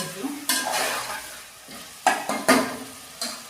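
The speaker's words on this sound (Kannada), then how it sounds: "ಈ ಥರ ಒಂದು ಫೈವ್ ಮಿನಿಟ್ಸು ಆಯಿಲು ಮತ್ತು ಶುಂಠಿ ಬೆಳ್ಳುಳ್ಳಿ ಪೇಸ್ಟ್ ಜೊತೆ ಫ್ರೈ ಆದಮೇಲೆ" Mutton frying in oil with ginger garlic paste for biryani, bursts of loud sizzling and scraping stirs in a pot, separated by brief quieter pauses.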